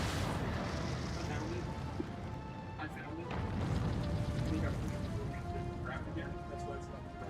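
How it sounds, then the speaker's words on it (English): Repeated explosions rumble through a video game battle, dense and continuous with several sharper blasts standing out in a noisy, busy mix. "there's a lot of explosions going on there."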